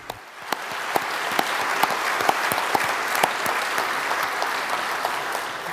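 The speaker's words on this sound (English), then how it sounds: "Applause for all of them." An audience at a conference on global challenges gives steady applause, a thick, even spread of many hands clapping with a few sharp individual claps standing out, without speech.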